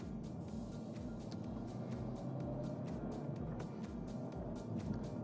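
Peugeot 308 GTi on a race track, its engine droning steadily and close with a low rumble, rhythmic pulses and repeated sharp clicks or gear-shift ticks throughout.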